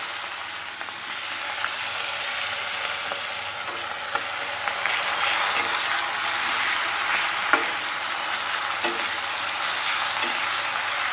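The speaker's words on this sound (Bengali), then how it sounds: "পেঁয়াজগুলো একটু হালকা ভেজে নেবো।" Onions frying lightly in a pan for a Bengali fish curry with cauliflower and potato, a steady close sizzle and crackle throughout with a few brief stirring clinks, no talking.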